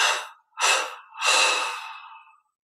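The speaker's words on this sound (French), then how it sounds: "Puis on inspire profondément par les narines." Three deep breaths drawn in through the nostrils during a guided meditation, two short inhalations followed by a longer, fuller one, close and breathy with no talking.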